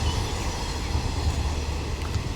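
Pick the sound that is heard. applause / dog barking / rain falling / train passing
train passing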